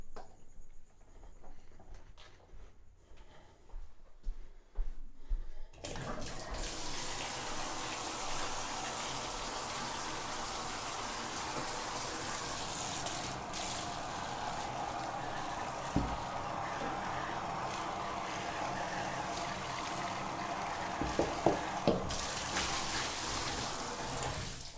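Hot tap water gushes steadily for sanitizing, a continuous rushing stream that starts abruptly after a few quiet seconds and keeps going at an even level to the end.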